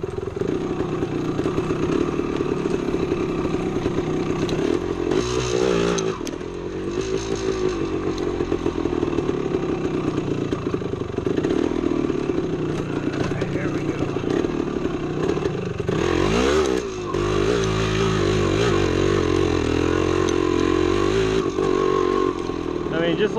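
A 1975 Yamaha DT250 two-stroke dirt bike rides off-road through woods, creeks, logs and small steep inclines, its engine running loud and continuous, revving and bogging as it climbs, with a voice talking over it at times.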